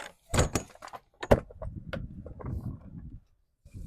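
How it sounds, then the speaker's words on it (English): Rear doors of a cargo trailer jetter swung open: a couple of sharp metallic latch clunks and door bangs, then a few softer rattles and thuds nearby, with no talking. "Open your rear doors."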